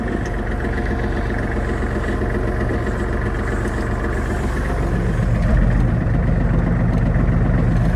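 A Kubota GL-25 mini tractor engine runs in top gear, a steady low mechanical drone that grows slightly louder and rougher toward the end.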